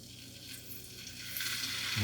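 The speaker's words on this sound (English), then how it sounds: "we'll just see if this gets a little sizzle" Chicken and vegetables sizzling in a worn old Teflon pan, a steady bright crackling hiss that builds slightly in intensity, close and alone without talk.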